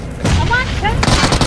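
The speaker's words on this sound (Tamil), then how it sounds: "அந்த வண்டி வெடிச்சிருச்சு" A vehicle blows up in the BGMI battle royale game with a loud burst of booming blasts and crackling gunfire-like bangs, continuing as a dense roar, with game sounds and some voice activity mixed in.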